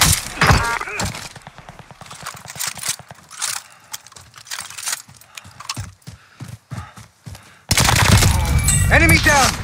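Rapid bursts of gunfire from a Bren gun in Call of Duty: Warzone (Vanguard) on Rebirth Island: sharp repeated cracks with irregular rhythm, then a loud, dense barrage near the end, with voice chatter mixed in.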